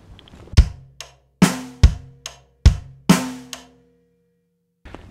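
Drum kit groove played using the low tom: a loose rhythm of heavy drum hits with lighter strokes between, close and loud, ringing briefly before silence and a final hit. No voices.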